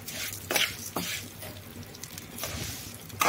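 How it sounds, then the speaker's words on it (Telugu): Semiya vermicelli frying in oil in a pan for semiya payasam, a soft continuous sizzle broken by a few light stirring scrapes and taps, close and fairly quiet, with no talking. "ఇదే ఆయిల్లో సేమియా వేసుకొని ఇదే నూనెలో"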